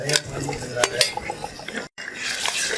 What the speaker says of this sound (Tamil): வெங்காயம் நல்லா வதங்கணும், இப்படி இருக்கக்கூடாது, நல்லா ஃப்ரை ஆகணும்.